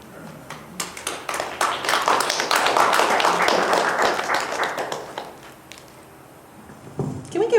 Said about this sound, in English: Can we give another round of applause for this?